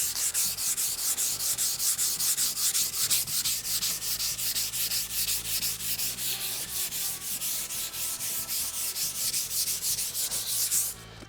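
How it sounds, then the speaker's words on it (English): Hand sanding across a wooden Ikea desk to remove scratches, with quick, even back-and-forth scraping strokes repeated close up without pause and no voices. "the slight sanding doesn't create that much dust, so it should be okay"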